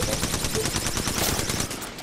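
Rapid automatic gunfire in the tactical shooter Valorant, fired at the agent Phoenix, comes as loud, fast, evenly spaced shots in a sustained burst that eases off slightly at the very end.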